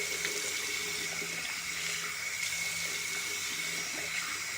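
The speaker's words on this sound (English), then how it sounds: "Just rinsing it all off now." Tap water runs steadily into a sink as face cleanser is rinsed off, a soft continuous splashing stream heard close up with no voices.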